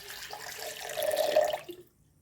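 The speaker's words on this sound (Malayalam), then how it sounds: "ഇനി ഇതിലേക്ക് തണുത്ത വെള്ളം ഒഴിച്ചു കൊടുക്കാം." Cold water pours into a mixer jar of homemade banana syrup, a brief close splashing gush that swells and then cuts off.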